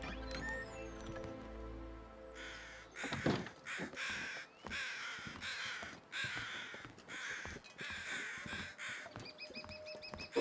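Crows caw repeatedly in the video game The Long Dark, a steady run of harsh calls with short pauses between them over a quiet wilderness background, fairly close, with no talking.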